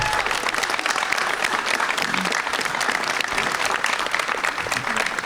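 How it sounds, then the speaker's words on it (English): Dense, sustained applause from a crowd at a high school athletic signing event, loud and steady from start to finish with faint voices mixed in. "Let's give Aubrey Ross a nice round of applause."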